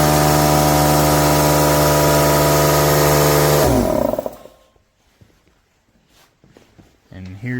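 An old Central Pneumatic 1.5 hp 6-gallon air compressor running loud with a steady droning hum, then cutting off abruptly halfway, followed by near silence and light handling noises.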